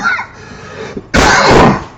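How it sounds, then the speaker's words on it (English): A loud, harsh cough bursts out close up after a moment of quieter breathy noise, lasting about half a second. "as I'm fighting a cough"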